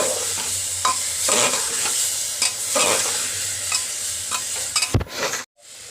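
Mixed vegetables frying with ground spice paste for a vegetarian village curry, a close, loud sizzle broken by rhythmic scraping stirs of a spatula in the pan, ending abruptly.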